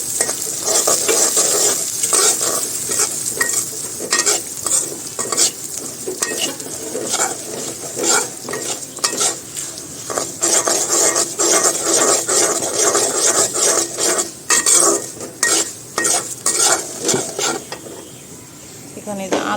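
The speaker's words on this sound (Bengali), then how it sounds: "তারপরে দিয়ে দেব মুগের ডাল ডালটা একটু ভালো" Moong dal stirred and fried in a pan, a continuous close sizzle broken by repeated scraping and rubbing strokes of a spoon, loud and busy throughout, easing toward the end.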